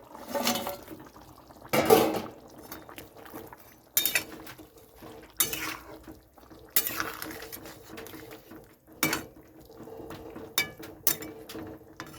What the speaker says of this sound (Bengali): এখন আমি এখানে মাছগুলো দিয়ে দিচ্ছি।